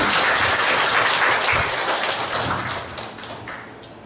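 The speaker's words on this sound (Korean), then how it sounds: "문호 회장님에게 큰 박수 부탁드립니다." Applause from an audience at a clan general meeting, a dense, sustained wash of many hands clapping that starts loud and slowly tapers off toward the end.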